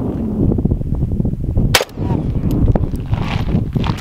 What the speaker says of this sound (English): Did you hear that ricochet?